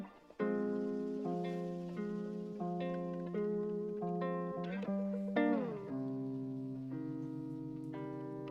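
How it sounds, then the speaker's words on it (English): A sampled classical guitar plays plucked notes and chords, each note ringing out and fading before the next, with a brief gap at the start and a deeper chord change past midway, heard alone with no talking. "I've started off with this classical guitar. It sounds like this."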